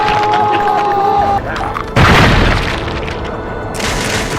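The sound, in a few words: gunfire from The Darkness II video game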